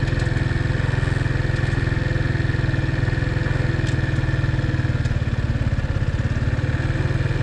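A motorcycle engine runs steadily at a low, even idle as the bike starts to creep forward in first gear on an incline with the clutch partly let out, a close, constant throbbing putter with no talk.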